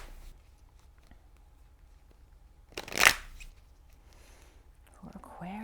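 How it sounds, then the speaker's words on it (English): Tarot card decks are shuffled in a single quick riffle burst mid-clip, close and crisp against near silence, with a soft voice starting at the end. "I'm going to shuffle a little bit more"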